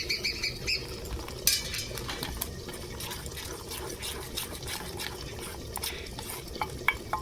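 Water splashes into a pan for an egg korma amid stirring and scattered clinks, moderately close with a soft steady background and no voices.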